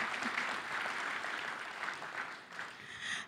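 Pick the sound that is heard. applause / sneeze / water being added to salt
applause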